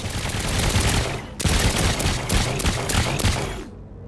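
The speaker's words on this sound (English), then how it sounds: "it looks like the auto cannons do not really do anything to..." Auto cannons blast in rapid continuous fire in the video game Trailmakers during a space mission against asteroids, a dense, loud barrage with a brief break before it resumes and then cuts off abruptly.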